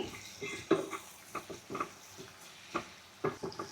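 Chopped vegetables being mixed with turmeric, chili powder, salt and peanuts, irregular soft scrapes and clacks of stirring, close and fairly quiet with gaps between strokes.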